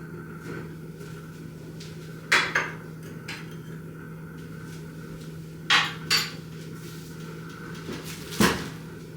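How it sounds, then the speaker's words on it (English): A mesh strainer is tapped to sift flour back into a homemade McDonald's-style apple pie mix, giving a handful of sharp knocks in loose pairs over a steady low kitchen hum. "I'm gonna add it back in using the strainer."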